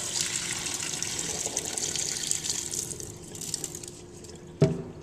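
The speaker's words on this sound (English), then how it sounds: "Pour out all the dirty water." Cloudy water from rinsing sushi rice pours out of a bowl in a steady hissing splash that tapers off, ending with a short knock.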